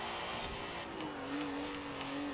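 Volkswagen Golf rally car in a Forza racing game, its engine holding a steady, droning rev with a rising tone partway through, loud and continuous with no talk over it.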